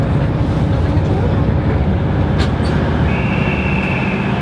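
A train runs on rails with a loud, constant rumbling roar and faint tonal whine, steady throughout with a brief sharper clack midway and a higher tone entering near the end.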